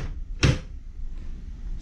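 A desk drawer in a ship crew member's cabin slides and knocks shut once, a single close wooden thump followed by quiet room tone.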